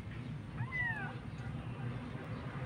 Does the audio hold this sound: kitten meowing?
yes